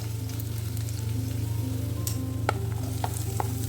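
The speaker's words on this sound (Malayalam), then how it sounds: "ചെറിയ ഉള്ളിയും ചേർത്ത് നന്നായി ഇളക്കി യോജിപ്പിച്ച് വഴറ്റിയെടുക്കുക." Curry leaves and small shallots sautéing in hot oil for Kerala-style mushroom thoran give a steady, close sizzle with a few light stirring clicks near the end.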